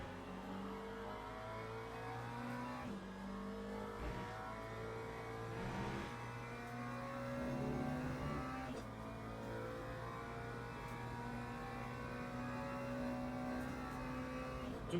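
A Chevrolet Corvette and a Mercedes racing on track, engines howling through rising and falling revs with gear shifts, a continuous mid-distance race car drone lasting the whole stretch without any talk.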